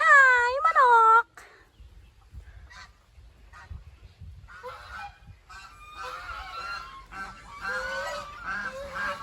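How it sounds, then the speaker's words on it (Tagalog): A duck gives a loud, close, honking quack at the start, followed by quieter scattered quacks and calls from nearby birds in an animal enclosure. "Patu."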